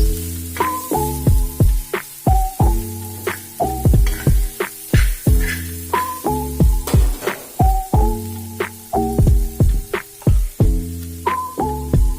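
Pork pieces frying in a pan for a home-made pork noodle soup, a loud steady sizzle with repeated pulsing bursts and tonal hum, no voices.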